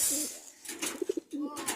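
Pigeon cooing at close range, a few soft throaty coos with a quick pulsed run in the middle, heard over faint background noise.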